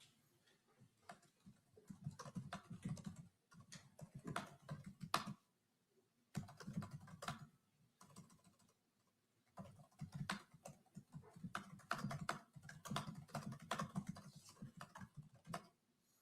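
Someone typing on a computer keyboard in a quiet room, bursts of rapid soft key clicks separated by short pauses, close and faint, with no talking.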